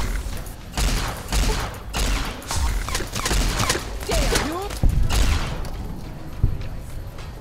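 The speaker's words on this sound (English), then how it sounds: "I'm also shooting while I'm running" Gunfire while running in a Fallout: New Vegas mod, a rapid series of loud shots in quick bursts, mixed with footsteps and mechanical clatter. The shots come close and sharp across the whole stretch.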